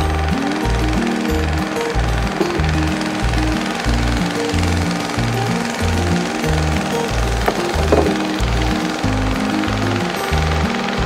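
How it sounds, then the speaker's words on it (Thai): A longtail boat engine on a reservoir in Thailand chugs loudly and steadily nearby, a rapid pulsing mechanical throb running continuously throughout with no talk over it. "เรือหางยาวโอ้โหได้ยินไหมได้ยินเสียงไหม"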